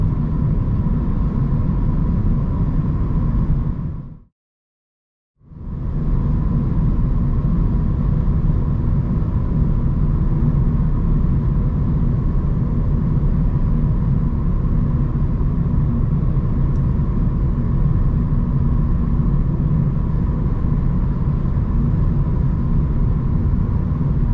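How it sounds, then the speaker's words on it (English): A steady, deep V8 engine drone from a Lexus IS500 hums continuously while driving, cutting out briefly near the start before resuming at an even level. "as fun as that engine is, as cool as it sounds"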